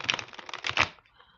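A water-damaged tarot card deck being shuffled by hand, a quick rustling flutter of cards lasting about a second, close and fairly soft, then quiet.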